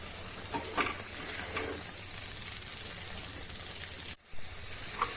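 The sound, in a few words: tomato thokku sautéing on medium flame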